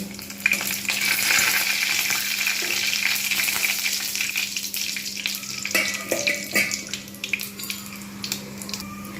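Potatoes fry in hot oil with panch phoron and dried chilli for a vegetarian potato and long-bean dish. The close, steady sizzle comes with a few sharp stirring clinks near the end.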